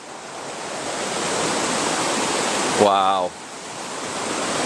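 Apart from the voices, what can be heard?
ocean waves washing onto a beach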